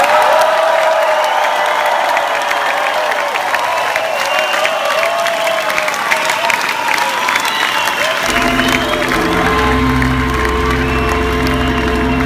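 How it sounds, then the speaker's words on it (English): An audience at a rock concert claps steadily and cheers in a broad, sustained wash of applause. Near the end, loud amplified music from the stage cuts in over the crowd. "Everybody, clap those palms together."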